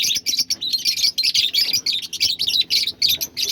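Pet cockatiels and peach-faced lovebirds chirp in rapid, close, bright bursts, with sharp tweets repeating almost without a break and no voices over them.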